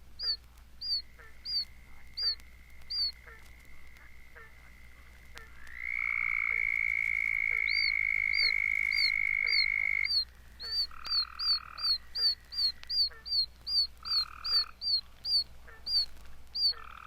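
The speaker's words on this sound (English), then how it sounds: "With it are heard also a southern toad, a swamp cricket frog, a barking frog, and a tree toad." A night chorus of frogs and toads after a warm rain near Statesboro, Georgia, including a southern toad, swamp cricket frog, barking frog and tree toad: repeated chirping croaks, a long steady trill through the middle, then a fast rhythmic series of loud calls.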